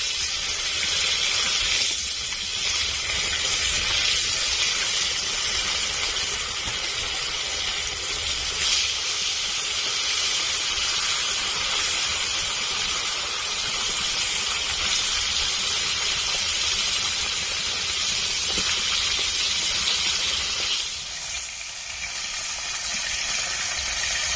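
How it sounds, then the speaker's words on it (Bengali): Steady, loud sizzling hiss of bhola fish frying in hot oil, continuous crackle filling the whole stretch with a brief dip near the end. "তেল গরম হয়ে গেছে মাছগুলো দিয়ে দেবো"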